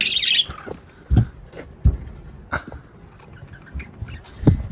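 Parrots at a home aviary give short, loud squawks and calls, a few spaced bursts up close over a quiet, faintly rustling background.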